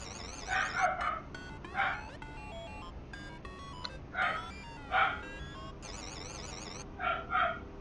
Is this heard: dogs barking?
yes